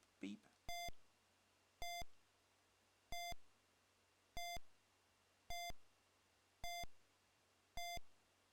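Short, identical electronic beeps from an Amstrad four-in-a-row computer game repeat about once a second, seven or eight in a steady row, each clean and loud against near silence.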